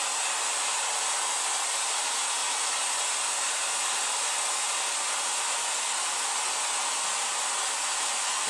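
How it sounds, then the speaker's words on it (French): A spirit box, or ghost box, pours out a loud, continuous wash of hissing static that stays flat and unbroken from start to finish, with no voices over it. "On appelle ça une spirit box ou une ghost box. Donc en fait, ça génère un bruit, comme vous l'entendez"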